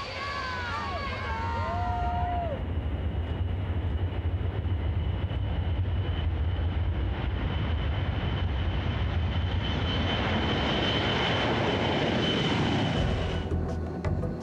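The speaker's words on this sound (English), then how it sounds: "the Air Force is letting Keiko fly in this special transport plane" A loud, steady engine drone from an Air Force transport plane fills the space, with a brief voice heard at the start.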